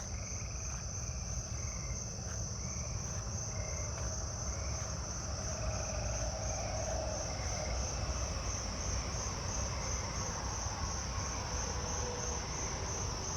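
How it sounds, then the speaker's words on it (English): Carolina ground crickets trilling in a backyard at night, a steady, continuous high buzzing chorus with faint overlapping insect calls and low ambient rumble, no voices. "I'm hearing Carolina ground crickets back there."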